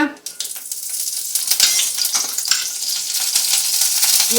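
Curry leaves hit a small amount of hot oil in a pan and crackle into a loud, bright, continuous sizzle with scattered sharp pops, close up and alone.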